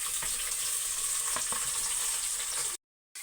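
Onions added to browned garlic frying in a pan of oil for pinakbet, a close, steady hiss of sizzling with faint stir clicks, running unbroken before a brief cut to silence at the end.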